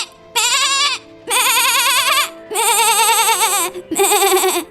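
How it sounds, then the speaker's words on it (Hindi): A cartoon goat bleats after being slapped: four loud, wavering, drawn-out bleats in a row, each about a second long, with short pauses between. "भोलू बकरी के पास आता है और उसके मुंह पर एक जोरदार तमाचा लगा देता है।"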